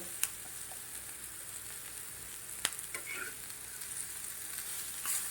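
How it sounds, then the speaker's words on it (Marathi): Roasted green chillies tossed into a hot pan and stirred, a soft steady sizzle with a few sharp spoon scrapes and clicks against the pan, fairly quiet and without talk. "आता याच्यामध्ये आपण भाजलेली मिरची घालूया"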